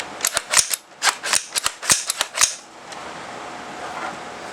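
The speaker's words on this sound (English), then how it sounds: "it all fits back together and locks into place" An Armalite AR-180 rifle's upper and lower receivers being fitted back together and locked into place: a quick run of about ten sharp, close metallic clicks and snaps, then near silence.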